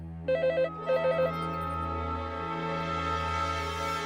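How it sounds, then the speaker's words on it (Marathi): A telephone rings in two quick electronic bursts, each a rapid trilling pattern, over a steady low hum, then the ringing stops and only the hum remains. "अगं केव्हाचा फोन वाजतोय?"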